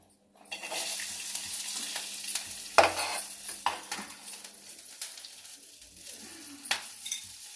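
Green chillies fry in oil in a pan for cucumber chutney, crackling and sizzling steadily with sharp spits and occasional stirring scrapes against the pan, close and alone.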